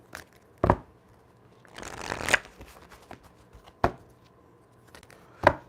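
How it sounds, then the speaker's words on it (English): Tarot cards are shuffled in short riffling bursts: a sharp snap, a longer rustling riffle, then two more isolated snaps, fairly close and with no speech. "So, quick shuffle."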